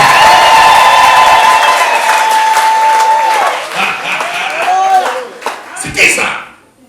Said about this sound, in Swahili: Pigia Yesu makofi na shangwe na vigelegele.